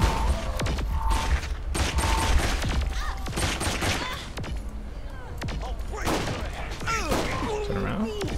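Gunfire in the video game Saints Row IV comes as dense bursts of shots and impacts with thuds and mechanical clatter, loud and close, mixed with game sounds and some talk.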